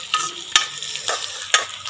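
Garlic frying in a hot pan as the base of a dried fish curry, a steady soft sizzle broken by a few sharp scraping stirs close by, with no talk.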